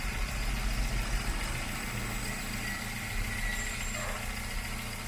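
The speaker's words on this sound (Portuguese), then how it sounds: "A rotação do motor aqui, ela tem que ficar próximo dos 2000 RPM" A VW Gol engine with a flickering oil pressure warning light runs at a steady idle, a close, even mechanical hum and vibration with no talk.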